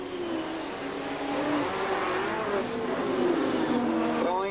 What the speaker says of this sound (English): He leads Ron Pine from New South Wales in car number 3.